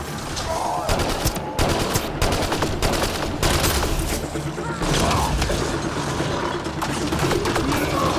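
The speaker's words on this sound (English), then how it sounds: "Oh, they can shoot through the shield, but I can't." Heavy gunfire in the video game Mass Effect Andromeda, with dense overlapping bursts and rapid shots crackling loud and continuously, mixed with game noise and muffled mechanical sounds.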